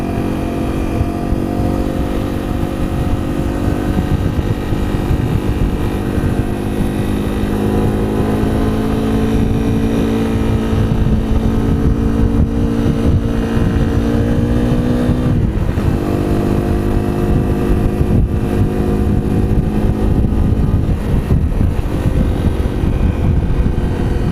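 A Honda CRF 250 L motorcycle rides along a road, its engine droning loudly and steadily throughout, mixed with rushing wind noise and slight shifts in pitch as the rider works the throttle.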